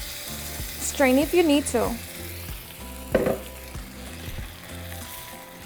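Red chilaquiles sauce hits a hot pan with an onion mixture and breaks into a loud burst of sizzling that settles into a steady fry with stirring, as a voice talks over it.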